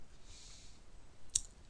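A single quiet computer mouse click while working in an Excel spreadsheet, one short crisp tick standing alone over faint room hiss.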